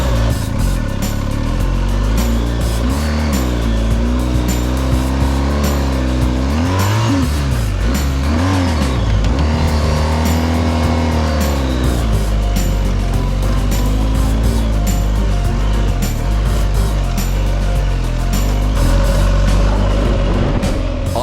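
A heavy adventure motorbike ridden off road across Sahara desert sand gives a loud, close, continuous engine roar that rises and falls as the throttle is worked.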